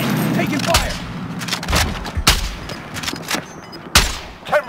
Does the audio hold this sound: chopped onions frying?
no